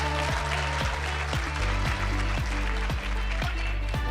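Audience applause for a singer at a national ICT summit sounds as a fairly loud wash of clapping over a thumping, beat-driven music backing.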